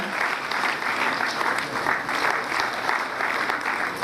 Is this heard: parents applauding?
yes